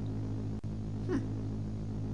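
One short cat meow from the retro video game Bud Tucker in Double Trouble rises briefly above a steady, low, looping game soundtrack.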